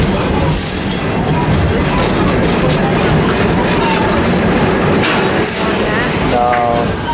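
The Serengeti Express ride train at Busch Gardens Tampa, a loud, continuous rolling rumble with wind noise from riding aboard, heard close and unbroken for the whole stretch, with a few faint higher tones.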